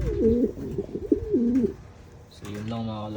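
Racing pigeons coo in close, repeated rising and falling calls over the first half, then a brief pause, then a different harmonic tone, with a voice speaking faintly.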